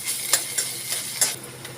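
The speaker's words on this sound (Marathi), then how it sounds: "याच्यामध्ये अद्रक लसूणची पेस्ट घालणार आहोत आणि ह्याला पण मस्त आपण कांद्यासोबत परतून घेणार आहोत" Ginger-garlic paste sautéing with onions in a pan, a soft steady sizzle broken by several sharp scrapes of a spoon stirring, close and fairly quiet, with no voices.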